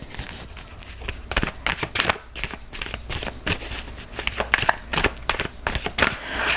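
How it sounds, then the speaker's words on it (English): Oracle cards being shuffled and pulled from the deck, a steady run of crisp riffling and flicking bursts, close and fairly loud, heard alone without talk. "I'm going to pull an extended oracle card."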